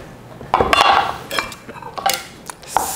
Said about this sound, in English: now I'm just going to toss this in to our pasta sauce